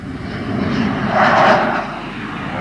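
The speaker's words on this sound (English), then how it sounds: "The spotter aeroplane is always overhead in case of trouble." A spotter aeroplane flies overhead above the hills of northern Thailand. Its steady engine drone swells as it passes closest near the middle, then eases off a little, with no voices.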